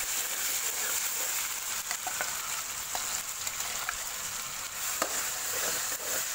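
A ground paste of ginger, garlic, onion and tomato fries in a pan for a mutton bone curry, giving a soft, continuous sizzle broken by faint stirring scrapes, with no talking.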